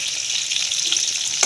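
Pieces of katla fish fry in hot oil, giving a loud, dense, continuous close sizzle with a faint stir near the end.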